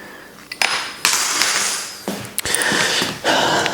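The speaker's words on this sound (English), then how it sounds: "Just throw all the Allen keys all over the floor." A set of metal Allen keys is thrown onto the floor in a bike workshop while a giant Propel's drivetrain is stripped, producing several sharp metallic clatters and jangling rattles in quick succession, close and fairly loud.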